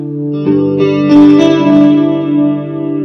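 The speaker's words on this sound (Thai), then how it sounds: "คอรัสบวกดีเลย์โอ้โหเว้ย" Sustained, shimmering electric guitar chords run through a Fender Champion 100 amp set to chorus plus delay, swelling with a few picked accents and trailing echoes, close and fairly loud with no voices.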